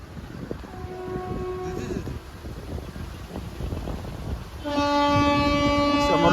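A passing train rumbles and clatters steadily, and its horn sounds in two sustained blasts, a shorter one early and a loud, long one near the end, with no talking.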